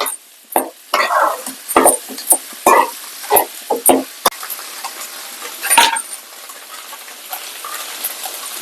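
Mutton blood with chillies frying in a pan until its water cooks off, heard as a steady close sizzle broken by sharp scraping stirs and clinks, with pauses between bursts.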